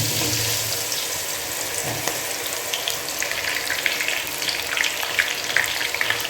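Potato snacks frying in hot oil give a steady, close sizzle and hiss that runs without a break, with brief bubbling swells along the way.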